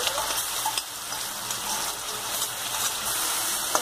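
Cumin seeds sizzling in hot oil, a steady loud frying hiss with faint crackles that holds throughout.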